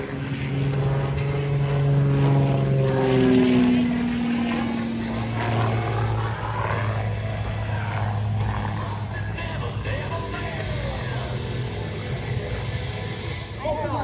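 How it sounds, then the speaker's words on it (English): A Fury aerobatic propeller plane performs a knife-edge spin at an air show, its engine droning steadily with sweeping pitch changes beneath continuous announcer talk. "There it is, knife edge spin with the fuselage on the upline for the Fury and Stephen Covington."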